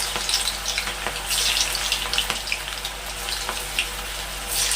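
Manchurian balls hit hot refined oil and fry with a bright, dense bubbling sizzle, bursts of spattering rising and falling over a low steady hum.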